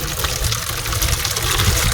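Water pours steadily onto plants inside a small home greenhouse, a close, continuous splashing hiss with no talking.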